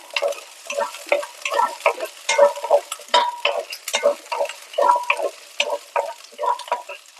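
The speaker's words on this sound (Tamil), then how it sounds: "இந்த நெய்யில் ஒரு ரெண்டுலேருந்து மூணு நிமிஷம் நல்லா வதக்கிட்டுக்கோங்க" Small shallots sauté in ghee for sambar, with rhythmic spatula strokes scraping and tapping the pan over a light, close sizzle. There is no talking.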